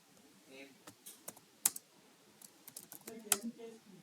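Scattered keystrokes on a computer keyboard during a web and mobile app development class, with irregular clicks and a couple of sharper taps, quiet and close, alone without talk.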